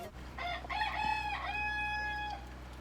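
A rooster crows once, a loud drawn-out call over a low steady background hum.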